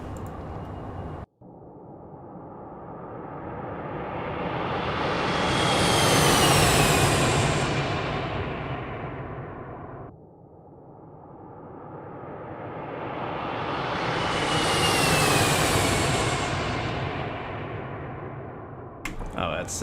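A Challenger 650 business jet in the X-Plane flight simulator roars past twice in flyby view, each pass swelling to a loud whooshing peak with a sweeping tone before fading, the second pass following after a brief cut.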